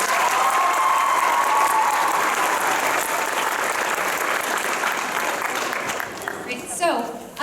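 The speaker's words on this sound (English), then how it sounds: "Can we give her another round of applause?" A school concert audience claps for the accompanist, dense sustained applause lasting several seconds before tapering off, with a voice briefly heard as it fades.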